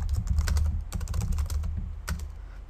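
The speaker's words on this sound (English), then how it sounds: "Sorry if I'm typing sloppy." Rapid clicking keystrokes on a computer keyboard, close and continuous, with a couple of brief pauses between bursts of typing.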